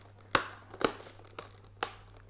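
Plastic wrapping on a Papalook HD 1080p webcam box crinkles in a few sharp, close bursts separated by quieter handling rustles, with no speech.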